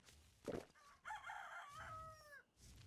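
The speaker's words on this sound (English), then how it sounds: "I hear a chicken." A rooster in the video game Ark crows in a few drawn-out, wavering calls after a short sharp cluck, fairly close and clear against a quiet background.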